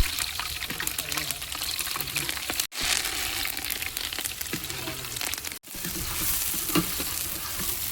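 Chilies fry in cooking oil while being stirred in a pan for chicken masala, a loud continuous sizzle with scraping stirs, broken by two brief pauses.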